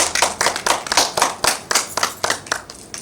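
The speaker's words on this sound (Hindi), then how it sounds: "तो संगवारी हो एक बार जोरदार ताली बजा दो उत्साहवर्धन कर दो भाई" An audience claps loudly at a village comedy show staging a sarpanch event, with distinct hand claps in uneven bursts close by. No one speaks.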